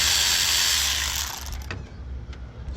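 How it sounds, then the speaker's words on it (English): A 10mm ratchet loosens a bolt on a Honda Civic engine, giving a dense, close clicking whir that fades after about a second, followed by a couple of faint metallic ticks. "take your 10mm, loosen the bolt right here."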